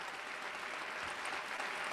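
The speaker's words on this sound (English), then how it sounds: "let's give ourselves a big round of applause" Steady applause from a crowd at a virtual unveiling event, dense continuous clapping filling the whole stretch without pause.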